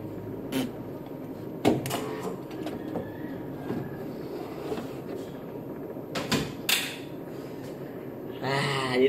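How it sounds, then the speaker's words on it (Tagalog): A large-format tarpaulin printer runs with a low mechanical rumble and carriage movement, punctuated by several sharp clacks and knocks, with a brief burst of higher-pitched rattling near the end. "Ayan guys yung printer"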